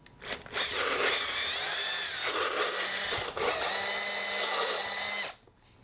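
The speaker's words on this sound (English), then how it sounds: "So I'm just going to be drilling in about this deep" A power drill whines steadily into the stripped bar stud hole of a STIHL chainsaw, loud and close, with a brief dip midway before stopping.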